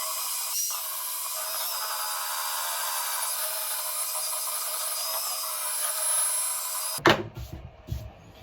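A continuous high-pitched grinding whine of a belt sander flattening turpentine timber for about seven seconds, then it stops and a few clunks and handling noises follow.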